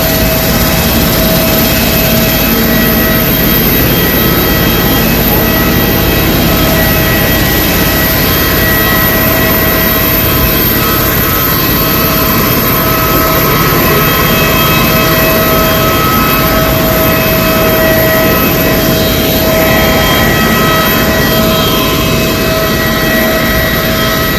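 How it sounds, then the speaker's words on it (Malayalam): A constant, loud roar of a passenger jet's engines, broad and unbroken for the whole stretch, with no talking. "ഇതാണ് നമ്മൾ വന്ന ഫ്ലൈറ്റിൻ്റെ ഒച്ച"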